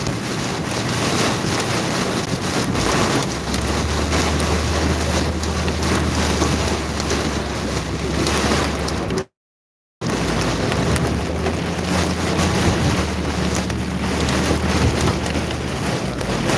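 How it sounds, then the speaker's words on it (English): Hail pounds a car during a severe storm in north-central Illinois, a dense, steady roar of hits that is loud and constant across the whole stretch, with a brief dropout near the middle. "You can hear it, we got hail."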